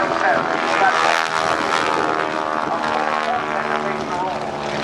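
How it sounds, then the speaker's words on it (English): A stock, unmodified Stearman biplane flies aerobatics at a naval air station airshow, its propeller engine droning steadily and loudly throughout without a break. "Now this airplane, as I've said several times, is a stock Stearman."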